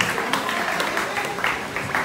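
A pageant audience in Nigeria claps in a continuous, moderately loud patter of many hands that holds steady throughout.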